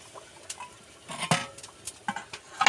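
A lid goes onto a cooking pot of simmering gravy for a fish curry thickened with wheat flour, giving a few faint, scattered metallic clinks and taps in a quiet kitchen.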